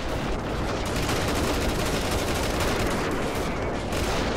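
Dense, continuous gunfire from many weapons in the video game Freeman: Guerrilla Warfare, a loud, unbroken barrage of overlapping shots with no gaps between them.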